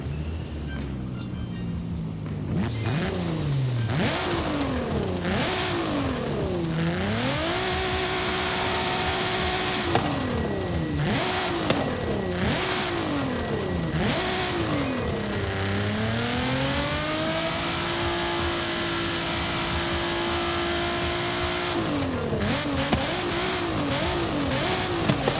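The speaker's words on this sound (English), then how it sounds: "let's go ahead and quickly have a listen to the engine" A loud Nissan GT-R R35 Nismo engine in Forza Horizon 5 revs repeatedly, pitch climbing and dropping through gear changes, then holding a steady high whine before more revving; no talking.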